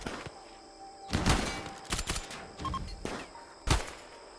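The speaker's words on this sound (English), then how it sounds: "That shotgun's gonna start ripping you apart if you're not careful." Shotgun blasts in the video game Odyssey, several sharp loud bursts at irregular intervals over a noisy game backdrop, with the strongest shots near the start and end.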